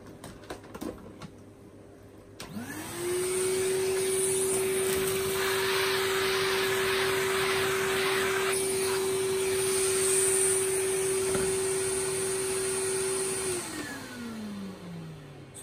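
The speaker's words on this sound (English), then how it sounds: "let me just clean up this little mess I've just made" Dyson V10 cordless vacuum cleaner running steadily at close range for about ten seconds with a high motor whine, starting up after a few faint clicks and winding down at the end.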